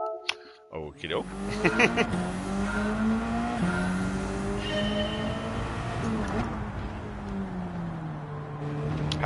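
A Subaru race car in Gran Turismo 7 revs and accelerates as its engine tone climbs and falls through gear changes over about nine seconds, close and steady, with a few tire or skid sounds and speech-like talk over it.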